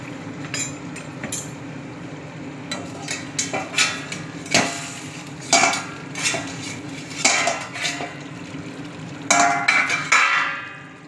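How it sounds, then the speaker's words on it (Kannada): A metal lid comes off a pot of cooking pepper dry chicken, with a run of loud metallic clanks and clinks scattered irregularly through the clip, close by and without speech. "ಈಗ ನೋಡಿ ಫ್ರೆಂಡ್ಸ್, ನಾನು ಬಾಯಿ ತೆಗಿತಾ ಇದ್ದೀನಿ."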